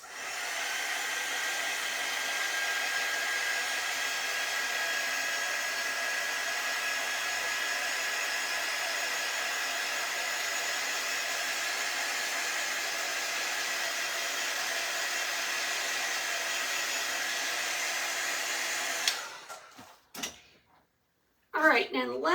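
A hair dryer blows steadily and close up for about nineteen seconds while drying a painted chalkboard sign, then cuts off, followed by a few handling knocks and rustles.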